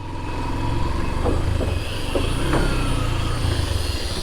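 A motorbike engine revving on a muddy road after rain in Sherpur, Bangladesh, a steady mid-pitched drone with a few short throttle blips, fairly close and continuous throughout.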